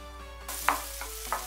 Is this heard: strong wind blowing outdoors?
no